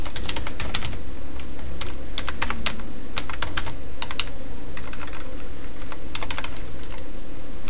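Rapid clattering keystrokes on a computer keyboard as a code comment is typed, coming in steady close bursts with brief pauses, and no speech.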